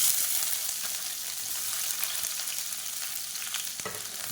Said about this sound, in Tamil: எண்ணெய் சூடானதும் 1 கைப்பிடி அளவுக்கு வெங்காயம் சேர்த்துக்கலாம்.